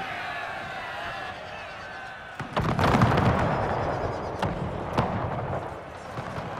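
A musket volley fired by Imperial Guard infantry in Napoleon: Total War erupts as a sharp burst of crackling shots and a booming rumble, followed by scattered later reports over a battlefield din, with someone talking.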